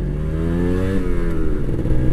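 Kawasaki Ninja two-stroke motorcycle engine revving up close, a loud, steady harmonic drone that rises in pitch and then falls back into a rougher, clattering idle.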